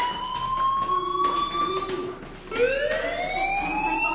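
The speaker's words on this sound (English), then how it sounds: "Hey, do you hear that fire alarm?" A loud video game fire alarm wails in rising and falling tones, cutting out briefly midway before resuming with a sweeping pitch.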